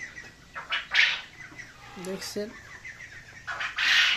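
Quail and other birds on a poultry farm give off scattered chirps and clucks in short bursts, some fairly close, while a person speaks briefly.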